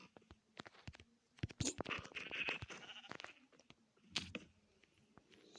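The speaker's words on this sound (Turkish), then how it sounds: "Koyun git şuradan." Sheep or goats bleating nearby on a farm while traps are set, several short wavering calls among clicks and handling noises, with no talk.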